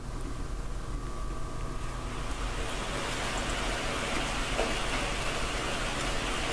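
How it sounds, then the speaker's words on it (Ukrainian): A recorded rain sound for sleep: steady rain falls in a dense, even hiss of drops, continuous and unchanging throughout, with no voices. "Чисто випадково попала на звук дощу."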